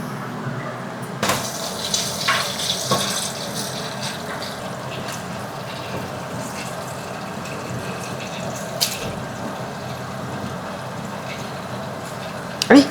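Tap water runs steadily into a kitchen sink while dishes are rinsed before cooking rice, a continuous close splashing wash with a few clunks and bumps.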